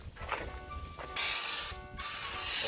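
Raptor truck bed liner sprayed from a gun, heard as two long, loud hissing bursts of spray separated by a brief pause, following quieter handling noise at the start.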